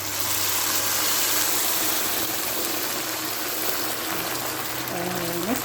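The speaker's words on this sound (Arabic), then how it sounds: "كده اتشوح كويس هنضيف الميه." Water poured into a pot of soaked rice, a steady trickling stream running under a broad background hiss, with a voice speaking briefly near the end.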